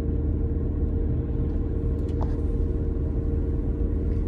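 Steady low road rumble from inside a moving car, a continuous drone that holds level throughout with no talk over it.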